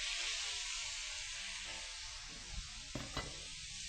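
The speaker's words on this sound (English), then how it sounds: "we're going to take the beef and slide it into the hot pan" Beef sizzles quietly in a hot oiled pan with a steady soft hiss, followed near the end by a few light clatters of the meat or utensil against the pan.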